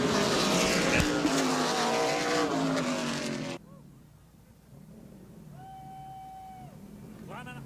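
Super late model race cars roar loudly past on the Auburndale track for several seconds, then the engine noise drops away and a commentator's voice continues over quieter background.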